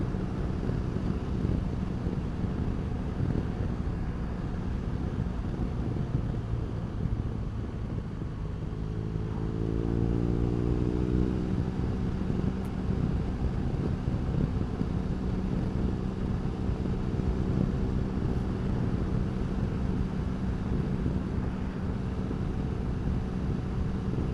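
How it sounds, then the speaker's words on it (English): Wind roars steadily around a rider on a moving motorcycle with the windscreen lowered, a constant broadband rush mixed with the engine's low drone, with a short shift in engine pitch midway. "a bit of wind roar because I've got the screen down"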